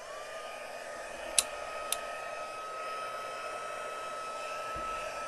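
A heat embossing tool for stamping crafts whirs steadily as it warms up, a constant hair-dryer-like blowing hum held close, with a couple of faint clicks early on and no talking.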